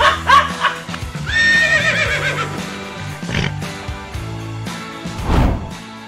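A horse in The Legend of Zelda: Tears of the Kingdom lets out a loud, wavering neigh, followed by hoof clops and thuds from the game.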